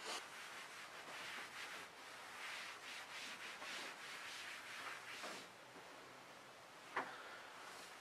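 Writing is rubbed off a board during a maths lesson, heard as a continuous dry scrubbing and swishing in repeated strokes for several seconds, fairly close and moderately quiet, with a brief louder knock near the end and no talking.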